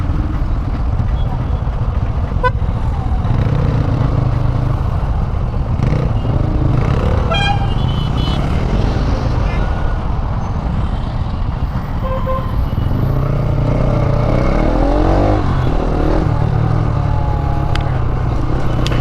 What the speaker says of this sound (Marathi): मरणाचा ट्रॅफिक करून ठेवला आहे